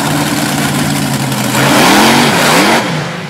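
The Aftershock monster truck's engine revs hard at a Little Valley, New York event. It rises from a throaty idle into a louder, climbing roar before easing back, close and without talk.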